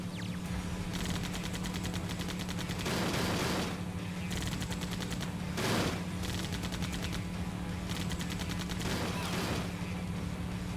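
Rapid bursts of gunfire ring out in the video game Sonic the Hedgehog (2006), with sustained automatic fire and a few louder, heavier volleys over a constant game background hum.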